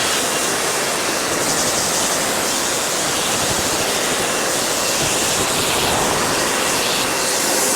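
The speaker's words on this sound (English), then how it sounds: "all we do now is we jet it off" A pressure washer jet blasts water across a car's body panels in winter, a loud, dense, unbroken hiss of spray that holds steady throughout with no talking.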